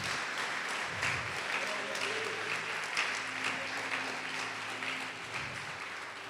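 A church congregation applauding during a worship service, a dense, steady wash of clapping that fills the room, with some voices and a faint tonal background mixed underneath.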